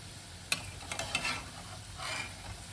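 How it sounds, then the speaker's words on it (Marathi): Sabudana vadas frying in hot oil, a faint steady sizzle broken by a few soft clicks and scrapes of a utensil, no voices. "सर्व वडे या पद्धतीने तळून घेते"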